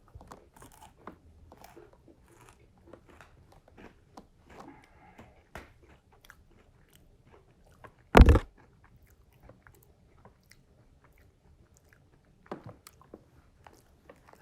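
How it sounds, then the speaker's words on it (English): A single sharp, loud crunch as a chocolate-dipped snack is bitten, surrounded by faint, quiet chewing and small mouth noises in an otherwise hushed setting. "The way it just like crunches, and because it's chocolate dipped, it also melts in your mouth at the same time."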